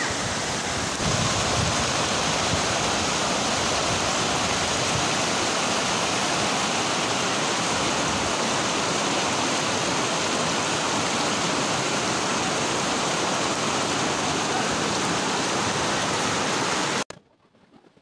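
Steady rushing river water fills the whole stretch, a continuous broadband roar close by, then it cuts off abruptly near the end. Recorded at a river in Dagon, Pantar, Lanao del Norte, Philippines.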